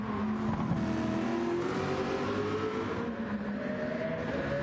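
A Mercedes-AMG race car engine runs in a circuit race, its note climbing steadily as it accelerates, heard at moderate distance over a constant track roar.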